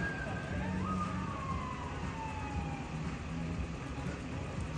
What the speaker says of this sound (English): Ambulance coming right now.